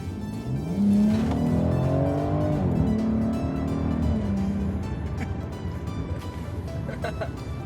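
BMW M140i accelerating hard from inside the cabin, a loud engine note climbing through the revs in rising sweeps with gear shifts, steady and close throughout.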